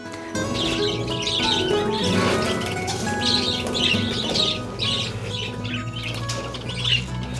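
Many caged parakeets chirp and flutter close by, a busy mix of tweets, coos and wingbeats layered over a low steady hum.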